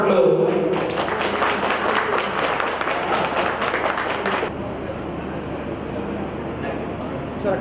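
Audience applause at a college alumni get-together, a dense, loud burst of many hands clapping that cuts off sharply midway, leaving lighter room noise and scattered sounds behind.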